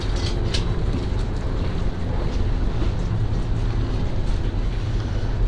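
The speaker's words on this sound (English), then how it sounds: "A little windy." Steady rushing wind buffets the microphone with a low rumble on a freezing evening in New York City, a constant roar with no voices.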